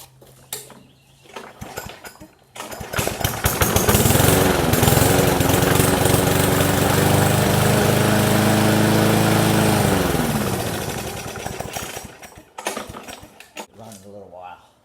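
A small engine in a garage sputters to life, swells into a loud, steady running drone for several seconds, then winds down, with metallic clatter around it.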